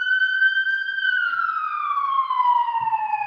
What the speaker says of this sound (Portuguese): Uma ambulância que está nos sacaneando aqui agora.